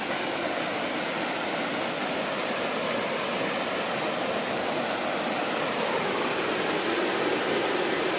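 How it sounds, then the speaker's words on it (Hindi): Jalpari waterfall at Mainpat pours in a constant, loud, even rush of falling water, heard alone with no talking. "आप आवाज़ से पहले इस झरना की आवाज़ सुनिए और कितना मनमोहक है देखिए"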